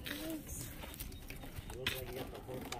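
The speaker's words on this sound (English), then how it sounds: "Roxanne, nice horse." A horse walks at a birthday gathering, its hooves clip-clopping faintly at an irregular pace under the chatter of people talking nearby.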